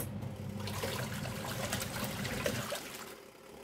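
A single tub washing machine spins its water load, giving a steady, fairly loud rush of swirling liquid that holds for several seconds and then eases slightly toward the end.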